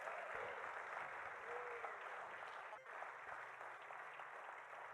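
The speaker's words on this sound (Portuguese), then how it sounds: "Você pode aplaudir a Deus." A church congregation applauds during a sermon with steady, continuous clapping that stays fairly faint and distant throughout, with no speech over it.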